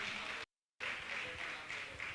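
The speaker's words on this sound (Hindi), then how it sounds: "जोरदार ताली बजाकर उनका सम्मान करें" An audience claps steadily to honor a donor at a religious gathering, with a brief cut in the middle before the applause resumes at a moderate level.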